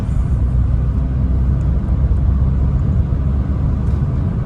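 Peugeot 508 with a 50-horsepower engine, heard from inside while driving: a steady, loud low rumble of engine and road noise that holds constant throughout, with no talking.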